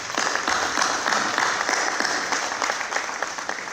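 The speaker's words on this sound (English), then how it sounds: "give all the families that are here, the spouses and the kids, a round of applause for all your support." A live audience at a drywall and floor-covering installers' competition gives sustained applause, a dense, steady wash of many hands clapping at close range with no talk over it.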